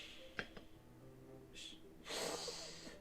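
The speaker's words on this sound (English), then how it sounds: "A sharp inhale, like someone sucking the air through their teeth." A sharp intake of breath drawn through the teeth in the Doki Doki Literature Club game, with one quick gasp early on and a longer breathy hiss near the end over a faint low hum.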